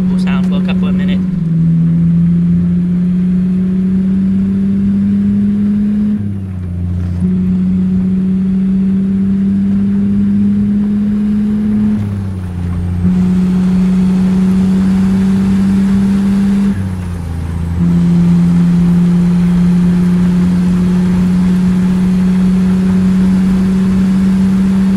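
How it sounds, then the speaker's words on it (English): A truck engine and turbo in the American Truck Simulator driving game, a steady loud drone with a high turbo whistle that rises through each gear and drops at every shift, about four long pulls, with no talk over it. "I'm just gonna let you listen to the Turbo sound for a couple of minutes"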